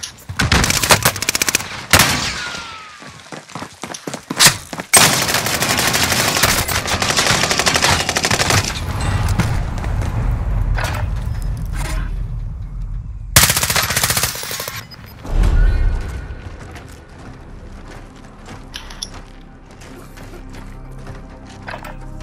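Gunfire in Call of Duty: Warzone, with loud rapid automatic bursts and single shots that come in clusters, interrupted by short silences and mechanical clatter, all close and heavy.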